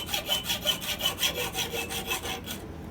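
A hand saw rasps through a piece of steel held in a vise, about ten quick even back-and-forth strokes, close and clear, ending abruptly.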